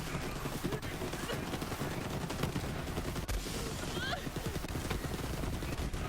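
Rapid, continuous gunfire rattles through a firefight in the video game Borderlands 3, dense bursts running throughout at moderate level with game sounds mixed in.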